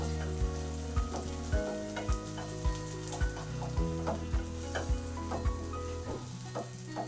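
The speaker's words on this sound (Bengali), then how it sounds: "আদা জিরে কাঁচা লঙ্কার পেস্ট, এটাকে ভালো করে কষে নেব।" A paste of ginger, cumin and green chili sautés in a pan for a rohu fish posto curry, with a constant close sizzle and a steady run of sharp, evenly spaced spatula knocks against the pan, under soft background music.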